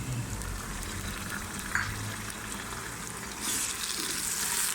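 Ginger garlic paste fries in a pan for dhaba-style red masoor dal, making a steady, soft sizzle that keeps going and gets a little brighter near the end, with no talk.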